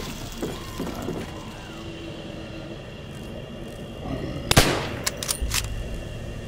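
Gunfire in Call of Duty: World at War Zombies on the Shi No Numa map: a sharp, loud burst of shots rings out over steady game ambience and a low rumble, followed by a few lighter pops.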